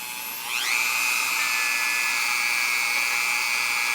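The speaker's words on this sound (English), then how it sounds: "another tool that you can use for really tight spaces is your Dremel" A variable-speed Dremel rotary tool polishing an aluminum motorcycle motor whines up to a high, steady pitch and holds it, loud and close, with no talk.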